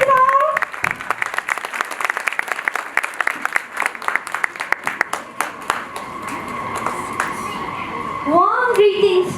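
Applause from the audience at a school investiture ceremony, a dense patter of clapping running for several seconds with speech-like tones mixed in, fading into a voice near the end.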